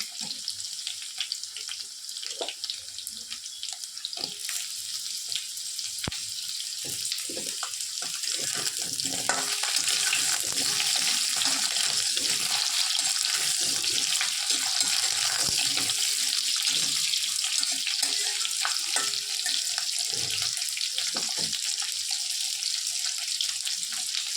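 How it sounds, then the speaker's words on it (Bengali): Pumpkin frying with five-spice in a pan gives a steady, close sizzling hiss that grows a little louder partway through, with scattered soft clicks and scrapes from stirring. No one speaks. "বেশ খানিকটা ভাজা হয়ে গেছে, এবারে কুমড়ো দেব।"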